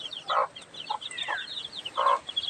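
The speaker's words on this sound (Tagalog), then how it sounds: "May nakakulong ditong mag-iina. Bali, sampu yung kanyang sisiw." A hen in a pen with her ten chicks clucks in short, close bursts, about four of them spaced apart, while the chicks give thin, high peeps throughout.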